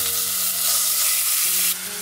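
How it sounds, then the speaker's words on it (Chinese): Minced pork fries in hot oil in a wok to render its fat, giving a loud, close, continuous sizzle over a low steady hum, with no talking. "起锅热油，先把肉末放进来煸出油"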